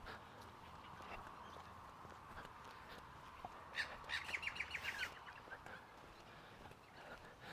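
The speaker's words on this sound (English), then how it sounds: "The birds are happy out here. They're all chirping away in the trees." Birds chirp in the trees of a leafy suburb in Hillman, Perth, Western Australia: a short cluster of bright, quick calls rises mid-way above a steady outdoor background, then fades.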